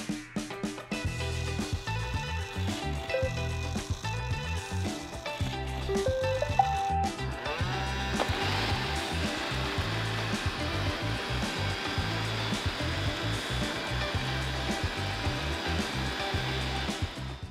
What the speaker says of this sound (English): what you just saw is my old Roomba 650 being controlled by Alexa